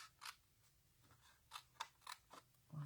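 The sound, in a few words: cutting a paper tab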